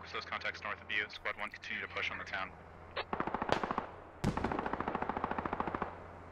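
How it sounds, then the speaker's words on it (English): Suppressing machine-gun fire in a military video game, rapid sustained bursts in two long strings, fairly faint in the mix after a stretch of talk, with speech over the opening. "he's adding suppressing fire"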